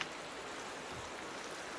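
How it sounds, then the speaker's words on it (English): Steady rain falling in the Minecraft video game, an even hiss of drops with no other sounds. "Alright, it's raining."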